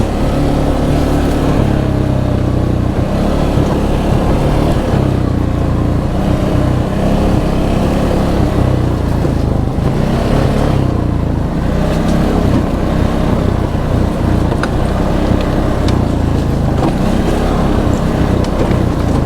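An ATV engine-brakes on a downhill stretch of hilly New Brunswick trail, its motor holding a loud, steady drone close by with no pauses.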